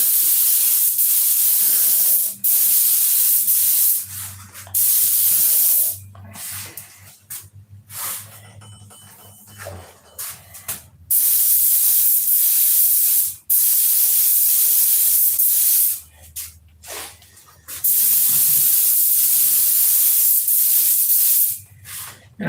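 Blue paint being spray painted on in coats, long loud bursts of hissing spray broken by short pauses, with a low rumble beneath during some stretches.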